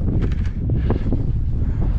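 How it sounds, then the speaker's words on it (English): Wind blowing outdoors at a fertilizer plant, a steady, close buffeting rumble across the microphone with soft gusting flutters. "I don't remember the wind blowing up there this much"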